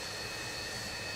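An Antonov plane's jet engine roars in a steady, broad, close rush, with a faint high whine on top and no pauses.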